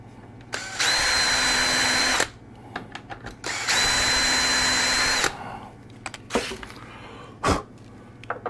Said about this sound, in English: now we need to drill the other side